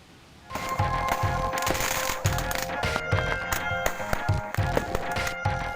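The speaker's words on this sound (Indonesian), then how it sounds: "Saling lempar petasan terjadi di area persawahan milik warga di Situbondo, Jawa Timur." Firecrackers traded between two groups of youths brawling in rice paddies in Situbondo, East Java: a dense, continuous rattle of sharp cracks and pops with crowd noise, loud and sustained throughout.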